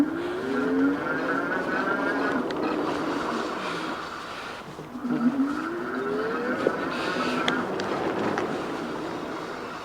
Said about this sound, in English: I'm not going to pedal, I'm going to leave my feet down here, so we'll see what this throttle does.